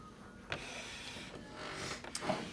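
A sewing machine stitches a lanyard, threaded with black top thread, giving a steady close mechanical whir with a few sharp clunks along the way.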